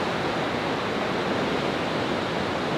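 Ocean surf at a Sydney beach, heard as a constant broad wash of breaking waves, even and moderately loud with no voices.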